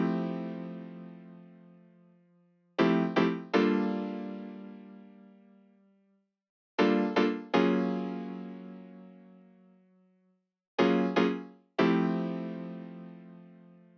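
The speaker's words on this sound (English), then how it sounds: "For the second part of this melody, I used a DS sounding grand piano" A DS-style grand piano plays a slow melody over reused chords: three separated phrases of a few struck notes each, every phrase ringing out and fading with a long decay, with no voices.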